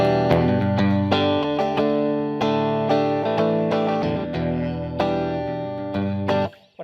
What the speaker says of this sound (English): Okay, maybe you're more into rock. You need more distortion.